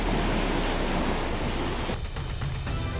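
A huge wave pushed up by a pod of orcas surges and smashes into Arctic sea ice, a loud, continuous roaring wash that turns rougher and choppier toward the end.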